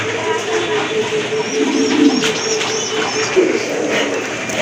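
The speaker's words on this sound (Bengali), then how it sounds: "দেখেন একটা গড়রা কবুতর, এটা টকটকা লাল কিন্তু কালারটা দেখার মতো" Rajshahi Giribaz pigeons coo softly and repeatedly in a loft, low rolling calls that rise and fall, with faint chirps and background noise and no clear talking.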